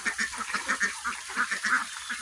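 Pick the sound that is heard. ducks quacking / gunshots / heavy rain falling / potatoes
ducks quacking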